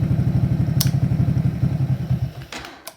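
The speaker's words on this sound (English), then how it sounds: "if I push the NOS button, it'll choke it, like it'll just give it too much fuel" A supercharged Postie motorcycle engine running with a fast, even, close putter until nitrous is fed in. It then stumbles with a few sharp pops and dies away, choked by too much fuel.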